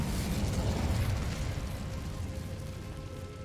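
The Incendio fire spell in Hogwarts Legacy bursts out as a loud, roaring whoosh of flame that slowly fades over a few seconds.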